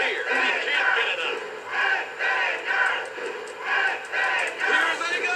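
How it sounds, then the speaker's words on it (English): Game crowd from the PS1 wrestling title WWF War Zone roars in repeated swelling waves, loud and continuous with rhythmic surges of cheering and chanting, no talk over it. "Listen to this crowd."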